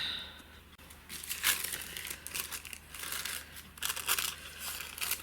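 Scissors cut paper: crisp crinkling and snipping sounds repeat unevenly for several seconds, close by, with a steady low hum underneath.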